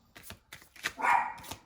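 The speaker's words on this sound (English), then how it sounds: "Daisy is barking." Daisy, a pet dog, barks a few short times somewhere in the house, fairly faint and distant, with the strongest bark in the middle of the moment.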